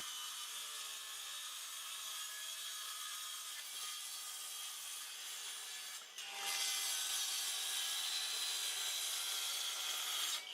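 A saw cuts horizontal wooden strips to width for a recycling bin cabinet in a continuous, close, gritty rasp. It dips briefly partway through before resuming slightly louder, with no talking.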